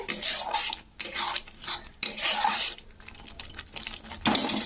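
A spatula scrapes and stirs a paste of cashew, melon seed and sesame in a pan for a vegetarian kohlrabi dish, in repeated rasping strokes about once a second, close and fairly loud with no talking.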